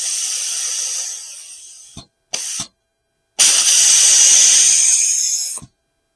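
A Yes Welder Cut-65DS-Plus plasma cutter set for marking steel fires three loud, close bursts of harsh hissing roar: a long one, a brief blip, then another long one, with silence between.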